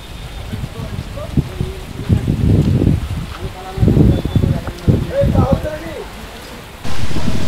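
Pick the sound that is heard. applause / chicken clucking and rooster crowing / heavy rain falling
heavy rain falling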